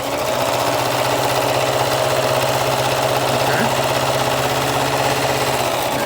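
A sewing machine runs steadily while stitching a garment's side seam in contrasting thread, a loud, even, rapid mechanical hum and needle clatter that continues without pause.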